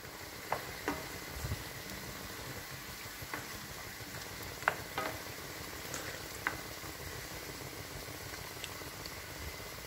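Chayote slices stir-fry with vegetables in a hot pan for a pancit bihon dish, giving a steady close sizzle broken by scattered sharp clinks and scrapes of stirring, with no voices.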